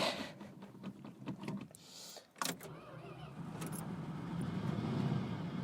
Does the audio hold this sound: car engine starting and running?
yes